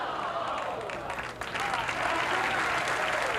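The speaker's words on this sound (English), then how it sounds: "But a healthy round of applause for a great start by Pete Weber." A bowling crowd at a 1982 professional match applauds a strike, dense steady clapping that swells slightly toward the end and fills the whole short stretch.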